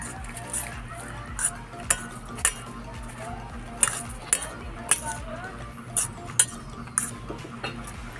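Batter for a cabbage torta stirred in a bowl with a utensil, steady scraping strokes punctuated by regular metallic clinks against the bowl's side, close and fairly quiet, with a faint sizzle in the background.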